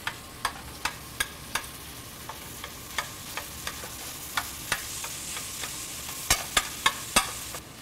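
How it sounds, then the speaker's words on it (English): Ground lamb seasoned with salt and pepper fries in a hot pan, a steady sizzle punctuated by regular sharp scrapes and taps as a utensil breaks up the meat, close and with no talking. "I'm gonna break this lamb up."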